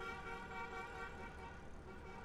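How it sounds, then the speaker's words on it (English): Outside, a car horn sounds as one steady, unbroken tone held for about two seconds, faint and distant against a low background hum. "Who is honking out there so much?"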